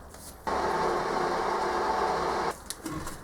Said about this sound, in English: As always, first order of business will be with the bandsaw.